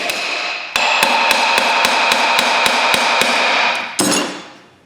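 A hammer pounds wheel studs out of a Toyota Tacoma rear hub, about a dozen loud, close metallic strikes in a steady rhythm over a ringing, humming background, with one last heavy blow as the sound fades.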